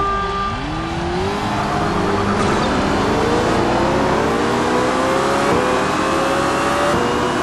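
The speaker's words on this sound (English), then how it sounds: "Oh, these cars sound bad in the pack. They sound awesome." A pack of race cars in the Toca Race Driver 2 video game, several engines revving and shifting together in loud overlapping whines, rising and falling pitches, with a brief tire squeal, continuous and close.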